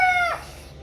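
A rooster crows once at close range, a loud harmonic call lasting about a third of a second before breaking off, followed by quiet background.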